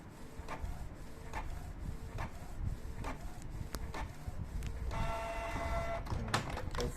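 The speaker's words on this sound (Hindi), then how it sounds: "ये देखिए एक पैटर्न प्रिंट करेगा।" A Canon Pixma G-series inkjet printer (G3000/G2000/G1000) prints a test pattern, with steady rhythmic mechanical clicks and whirring as the print head shuttles and paper feeds, heard close and alone.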